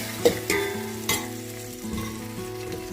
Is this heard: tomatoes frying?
yes